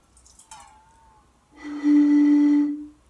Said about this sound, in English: we're gonna dump some water out